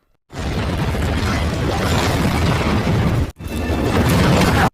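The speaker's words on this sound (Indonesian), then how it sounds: "ledakan dahsyat pun menggema hingga menciptakan muntahan api yang sangat besar" A loud, sustained explosive roar with dense low rumble, briefly cutting out and then surging back, like a massive blast and fireball.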